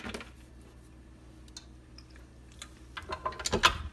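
Lemon pound cake batter mixed in a bowl, soft ticking scrapes and taps of the utensil growing busier and louder toward the end, with no voices.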